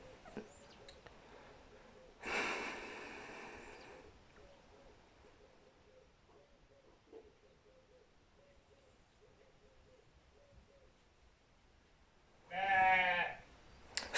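Sheep bleat in two loud, wavering calls several seconds apart, close by, with a faint low droning tone and quiet background between them.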